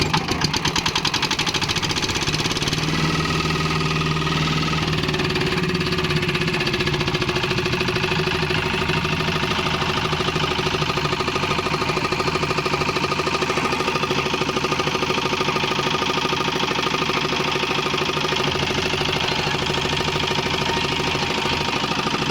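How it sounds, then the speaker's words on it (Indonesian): Engine running steadily in an outdoor field, a rental machine with a sustained mid-pitched droning hum and rattling knock, loud and continuous throughout with no speech. "Inilah cara menghidupkan mesin di lapangan ya."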